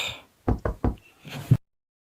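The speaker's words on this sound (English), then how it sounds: "we hear a knock" Three sharp knocks on a wooden door in quick succession, followed by a softer muffled thump, close and alone against silence in a spooky Minecraft setting.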